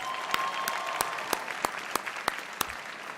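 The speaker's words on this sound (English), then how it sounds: "I think a round of applause for them is in order." Graduation audience applauding for the graduates' parents, a steady wash of clapping with several sharper individual claps standing out at intervals; no voices.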